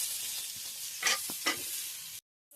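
Pumpkin pieces fry among potatoes and eggplant in a pan, a low steady sizzle with a couple of brief scraping stirs standing out before it cuts off.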